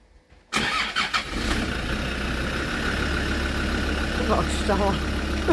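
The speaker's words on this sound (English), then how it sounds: "then we will start it, warm up the engine" A Land Rover Discovery 2 engine cranks and fires after a brief quiet moment, settling into a steady, close idle that runs for several seconds.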